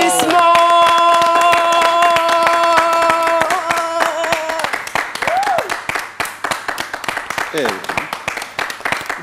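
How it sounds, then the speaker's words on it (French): Loud, dense audience applause at a tribute ceremony in Côte d'Ivoire, steady clapping filling the whole stretch, with sustained musical tones in the first half and brief vocal sounds later. "Tonnerre d'applaudissements."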